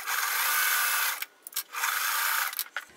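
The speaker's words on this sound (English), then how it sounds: "we're going to sew on that diagonal line" A sewing machine stitches a quilt block along a diagonal line in two steady runs of fast whirring, roughly a second each, separated by a short pause with faint handling noises, loud and close with no talking.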